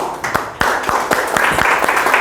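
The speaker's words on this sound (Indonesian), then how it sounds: "Kasih tepuk tangan lagi." Applause in a classroom, a burst of sharp, uneven hand claps from a group of students that starts abruptly, carries on for a couple of seconds and stays loud and close.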